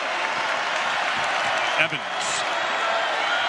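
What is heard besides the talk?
basketball arena crowd applauding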